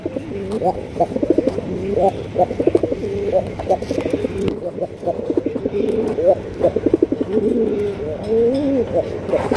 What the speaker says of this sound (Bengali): দেখি কবুতরটা ডাকে নাকি। ডাক দিছে